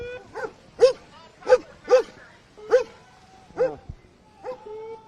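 A police K9 dog barks in a series of about seven sharp, fairly close barks spaced irregularly, with outdoor background hum between them.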